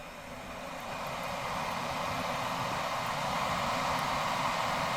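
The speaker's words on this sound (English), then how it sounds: "If I'll put it on full, like max, it goes crazy." A camping gas stove burner turned up to full power beside a stream gives a steady, loud, jet-like roar that holds constant throughout with no talking.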